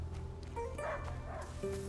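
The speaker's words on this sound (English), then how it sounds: "He stopped barking." A dog in the video game A Plague Tale: Innocence barks and yips in a few brief calls, fairly faint beneath a steady low game soundscape.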